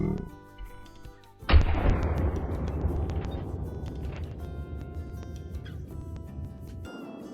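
Lever-action .45-70 rifle shot in the hunting video game Call of the Wild, a single loud, sharp blast followed by a long rumbling echo that slowly fades over several seconds.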